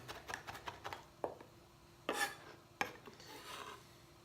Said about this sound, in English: just give it a rough chop till you get it pretty finely minced